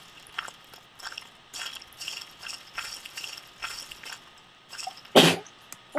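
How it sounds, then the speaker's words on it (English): A person sneezes once, sharp and close, near the end after a stretch of soft rhythmic breathing and small mouth noises. "I'm about to sneeze."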